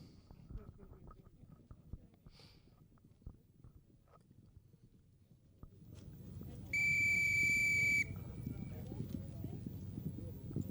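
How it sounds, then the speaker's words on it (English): At a polo match, one sharp, steady whistle blast from an umpire rings out for just over a second above the rumble of hooves and crowd noise. "umpires just blowing a whistle there"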